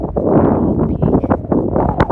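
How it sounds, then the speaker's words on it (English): Steady wind buffets the microphone on a mountain trail near Bald Peak on Monadnock, a continuous low rumble with gusty swells throughout and no clear speech. "Windy."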